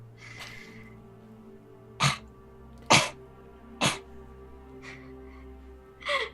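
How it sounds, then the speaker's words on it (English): Several short, sharp coughs come one after another at intervals of about a second, close and fairly loud over a quiet room hum, with soft breathy sounds in between. "Okay, now cough."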